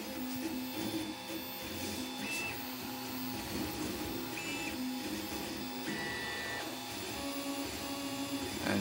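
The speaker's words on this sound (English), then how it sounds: "material is being deposited onto the previous layer" A 3D printer lays material onto the previous layer while printing the frame of an RC monster truck, giving a steady, close whine of stepper motors with shifting tonal buzzes and brief pitch changes as the head moves.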